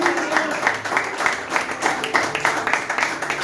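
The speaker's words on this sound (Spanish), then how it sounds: "Denle un aplauso al Señor" A church congregation claps together in a brisk, steady patter of many hands, moderately loud and fairly close, with some voices mixed into the applause.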